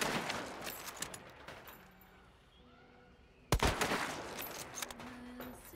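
Gunfire rattles in the video game Trials, Stillwater Bayou level on hard mode: bursts of shots, then a quieter lull, then a sudden loud volley of rapid fire that continues to the end.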